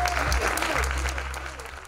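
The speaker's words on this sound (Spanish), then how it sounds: "Aplauso cerrado al final de la jornada, aplauso cerrado y bien merecido." An audience at a cultural awards ceremony gives sustained applause at the close of the event, a dense wash of clapping that stays loud throughout, with some voices mixed in.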